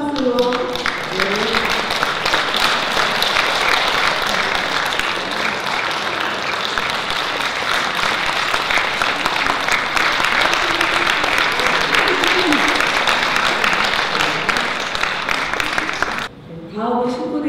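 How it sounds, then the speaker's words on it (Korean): A hall audience at a Korean flower design association's chairman inauguration ceremony claps in loud, sustained applause that runs for most of the stretch before cutting off near the end, with a voice faintly audible underneath. "손 박수로."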